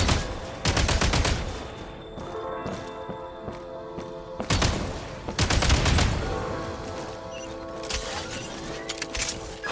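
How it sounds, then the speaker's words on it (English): Bursts of video game gunfire shooting explosives to clear a blocked path, with repeated rapid shots and heavy blasts around the start and middle, over a continuous game soundtrack. "Shoot the explosives to detonate them and clear the path."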